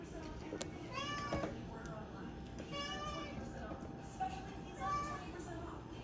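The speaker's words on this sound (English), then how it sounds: "There's the kitty." A cat meows a few times, rising, nasal calls spaced across the clip, over a steady background with someone talking nearby.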